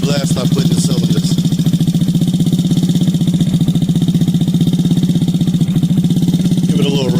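Yamaha Zuma scooter with a swapped-in GY6 engine idles steadily up close, a continuous throbbing putter with a slight rev toward the end and faint talk in the background.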